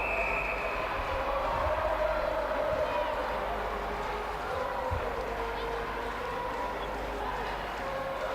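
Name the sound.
crowd cheering at netball match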